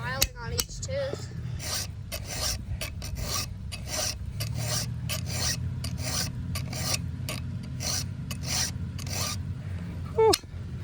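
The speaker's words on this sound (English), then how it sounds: "all the times you're filing on each tooth" A hand file rasps across the teeth of a dull chainsaw chain being sharpened, a steady run of close, rhythmic grinding strokes with a brief louder scrape near the end.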